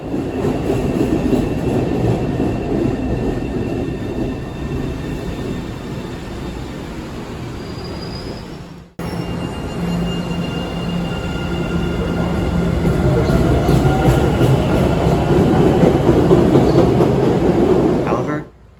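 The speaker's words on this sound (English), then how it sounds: "the accelerating and decelerating sounds sound perfect to me" An MBTA CRRC subway train hums and whines as it speeds up, a brief break, then the motor tone rises and falls again as it slows, with rumbling wheels throughout.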